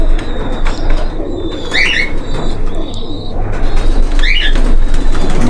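A female red-eyed imported pigeon coos in a loft, soft low calls rising over steady background noise with a few higher chirps or whistles from other birds, no voices.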